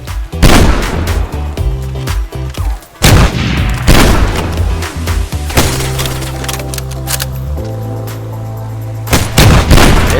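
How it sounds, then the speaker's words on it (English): Gunfire and a grenade blast in the survival video game DayZ, several loud sharp bangs and booms at irregular intervals over a rumbling layered backdrop, close and dominant throughout. "Hey, grenade! Grenade!"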